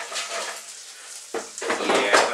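A chicken, bacon and sausage stir fry with potato being stirred in a pan, with a steady sizzle and a few louder scrapes and clinks of the utensil against the pan toward the end.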